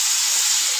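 A little water added to a hot pan of cumin, chili and turmeric powder, producing a loud, steady, close hissing sizzle that fills the whole moment without any talking.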